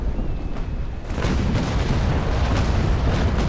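Naval cannon broadside fire in the sailing-ship battle game Naval Action, heard as a continuous rolling roar of heavy booms that grows louder after the first second and keeps rumbling with repeated low thuds.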